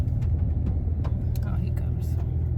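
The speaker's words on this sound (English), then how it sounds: "there's a car coming" A car passes on a beach-town road in Jacksonville Beach on the Fourth of July, a steady low engine rumble continuing throughout with people talking nearby.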